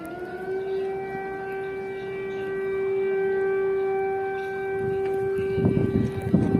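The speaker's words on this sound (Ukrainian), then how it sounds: "Вже годину триває повітряна тривога." A civil defense air raid siren wails steadily during a prolonged alert in snowy Ukraine, holding a sustained tone with strong harmonics, moderately loud and continuous, with some background noise swelling near the end.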